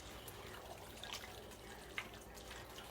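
Reserved pasta water seasoned with chicken bouillon poured into a casserole, a steady soft liquid splash and trickle with a few small drips, close and fairly quiet throughout.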